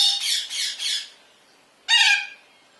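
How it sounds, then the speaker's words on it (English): A caged pet bird squawks loudly up close: three quick harsh squawks in a burst, a pause, then one more piercing squawk, with no talking. "Just doing a video to show people what happens if you put Skip in a cage"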